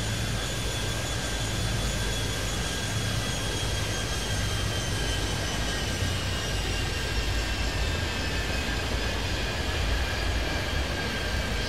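An airliner in Airport Madness 3D at the Kingston airport throttles up for takeoff, giving a continuous, even jet-engine roar with a steady high whine running throughout.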